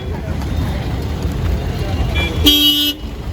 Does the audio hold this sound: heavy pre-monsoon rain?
no